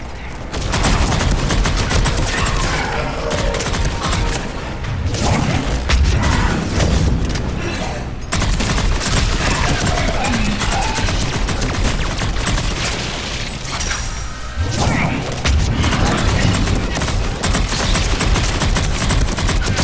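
Enemy gunfire in the Mass Effect 3 video game, a loud, dense run of shots and booms filling the whole stretch with only brief lulls, with game mechanism noises mixed in.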